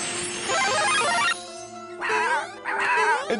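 A cartoon dog from the animated Super Mario Bros 3 series yips and whimpers in short bursts against a busy, tonal soundtrack background.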